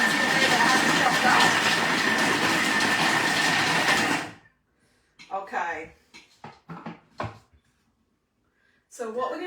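Thermomix TM6 chopping Brussels sprouts, a loud, dense whirring and rattling blade burst for about four seconds that cuts off abruptly, followed by someone talking in the quiet afterward.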